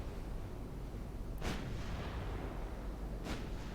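Warship guns in the naval strategy game Ultimate Admiral Dreadnoughts fire in two separate booms about two seconds apart, faint and distant over a constant low rumble.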